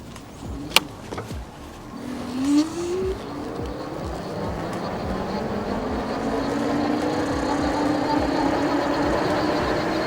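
A Mukkpet Suburban electric bike cruising on throttle alone at about 21 mph, with steady wind and road rumble and a faint rising motor whine, continuous and close throughout.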